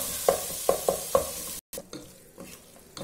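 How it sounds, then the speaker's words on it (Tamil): Chopped tomatoes go into a pan of sautéed chili powder for prawn biryani: four sharp spoon taps, then continuous close stirring and sizzling. "இப்போ கட் பண்ணி வச்சிருக்க தக்காளி ஆட் பண்றேன். தக்காளி நல்லா வேகணும்."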